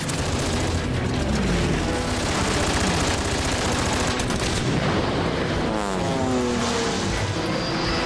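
Airplane acrobatics scene from the James Bond film Quantum of Solace with planes flying through a canyon. A loud, dense, continuous roar of aircraft engines is mixed with bursts of rapid gunfire and booms.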